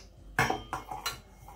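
Cooked legumes tumble into a serving bowl in a home kitchen, giving three distinct clattering clinks of metal utensil against dishware, the first loudest, then two lighter knocks about a third of a second apart, close and with no talking.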